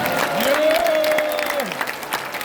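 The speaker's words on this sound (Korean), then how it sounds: "우리 장하영 목사님 건강하시라고 박수 한번 보내주시죠." An audience at a civic education meeting claps for a pastor, a short spell of applause with a voice calling out loudly over it.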